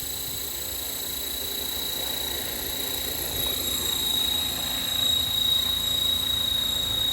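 A Blade Fusion 360 RC helicopter flies steadily, its rotor and motor making a continuous whirring drone with a high whine that holds even and slightly swells, with no talk over it.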